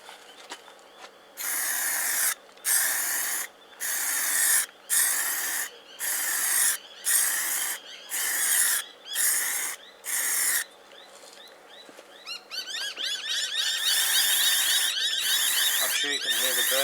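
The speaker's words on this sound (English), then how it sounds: "I'm sure you can hear the birds arguing in the trees there." Birds squabble noisily in nearby trees with a run of loud, rhythmic screeching bursts broken by short gaps, then a denser stretch of chattering calls toward the end.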